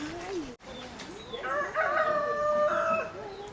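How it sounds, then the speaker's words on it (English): Chickens on a rural wilderness property, with a rooster crowing loudly and close among other clucking birds, and a person's voice heard at the start. "Chickens."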